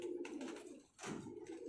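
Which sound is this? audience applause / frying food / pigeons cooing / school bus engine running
pigeons cooing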